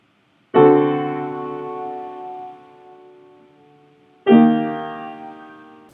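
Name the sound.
deceptive cadence chord resolution played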